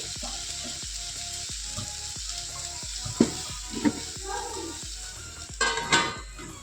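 Sliced okra (bhindi) cooks under a lid in a pan over a low flame, giving a steady close sizzle with a regular train of soft ticks and a few louder clinks near the end.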